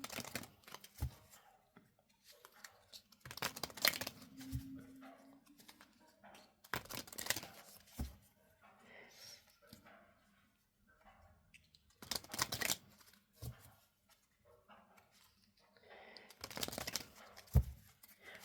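Tarot or angel cards are shuffled and pulled in short, soft riffling bursts separated by quiet gaps, close and faint.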